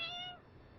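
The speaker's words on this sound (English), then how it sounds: "that's a Rin meowing" A cat gives one short, fairly faint meow that fades quickly, heard alone against quiet background.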